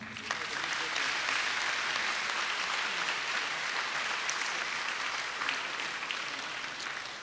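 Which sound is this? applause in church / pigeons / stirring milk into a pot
applause in church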